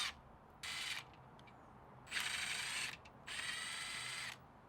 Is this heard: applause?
no